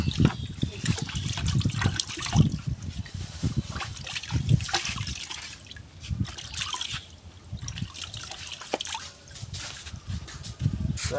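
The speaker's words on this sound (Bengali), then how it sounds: "তো মেশিনটা ধুয়ে নেব," Water trickles and splashes while a kitchen machine is rinsed clean, an uneven, faint running and dribbling sound with small splatters throughout.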